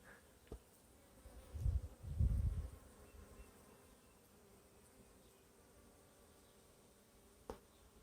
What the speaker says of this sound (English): there's bees all in this stuff.